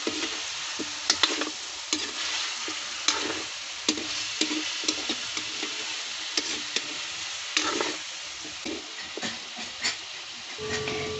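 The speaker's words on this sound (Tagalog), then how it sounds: "ihalo nyo na yung chicken" Chicken stirred into browned garlic in a pan over a charcoal stove for chicken adobo sizzles steadily and loudly, with scraping stir strokes recurring throughout.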